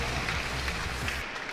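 A crowd at a Tekken 7 tournament applauds and cheers, a dense wash of clapping and noise heard briefly up close and fairly loud before it cuts out sharply.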